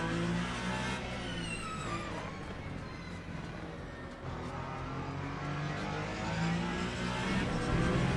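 A BMW race car closing in from behind during a Le Mans Ultimate race, its engine a continuous loud revving drone with shifting pitch as it nears, no talk heard.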